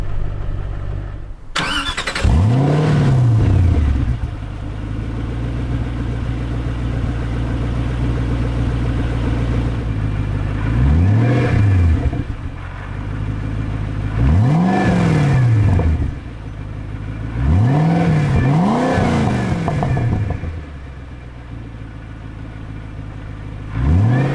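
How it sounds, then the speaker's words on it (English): A 2005 Ford GT engine revs repeatedly, with loud exhaust blips rising and falling over a rumbling idle, several sharp bursts spread across the clip. "let's listen to the amazing exhaust."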